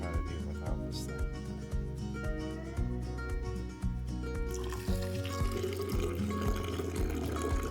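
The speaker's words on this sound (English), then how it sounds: "hopefully I don't pour too much water in here" Water is poured into a press with a continuous liquid trickle and splash, steady and close, partly buried under layered background music.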